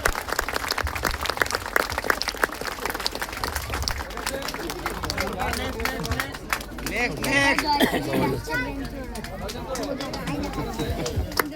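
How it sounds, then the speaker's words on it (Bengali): A crowd at a station ceremony marking new express train stops claps continuously, sustained applause mixed with chatter and hubbub, with some voices rising over it midway. "হাততালি যেন না থামে, হাততালি"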